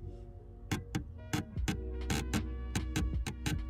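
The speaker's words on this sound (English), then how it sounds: "when you depress your clutch you get this sound." Clutch pedal return spring squeaking in a Honda Accord CU3 cabin as the pedal is pressed, a series of sharp, close ticking squeaks in an uneven rhythm over a low engine hum.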